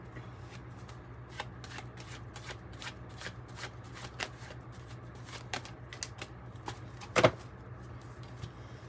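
Oracle cards shuffled by hand during a reading, a run of soft rapid riffling flicks with one louder snap near the end, quiet and close.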